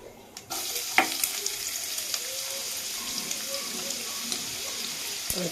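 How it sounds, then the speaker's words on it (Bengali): Chopped onion goes into hot oil for pulao, setting off a sudden steady sizzle that keeps going evenly, with light stirring knocks and no talking over it. "এতে দিয়ে দেব পেঁয়াজ কুচি"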